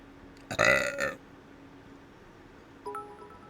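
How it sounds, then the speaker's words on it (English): A single loud, close burp lasting about half a second, followed by quiet and a faint short tone near the end. "people keep editing me burping"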